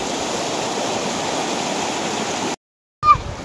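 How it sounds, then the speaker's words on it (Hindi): Floodwater after heavy rain in Kashmir rushing hard over a road, a loud continuous roar and hiss that cuts out abruptly, followed by a brief splash. "चेक करें ना जी पानी का प्रेशर इधर कितना ज़्यादा है"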